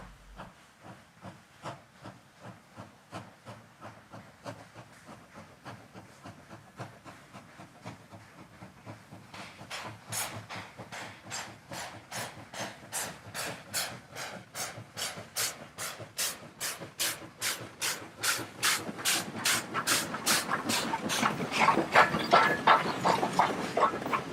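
A steam locomotive on the Sandaoling coal mine railway chuffs away with a workers' train, chimney first, its rhythmic exhaust beats starting slow and quickening, hissing steam growing louder and sharper as the train pulls off.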